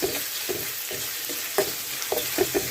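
Onion and four whole garlic cloves softening in a pan, giving a steady soft sizzle broken by occasional light stirring scrapes and taps, close and alone with no voices.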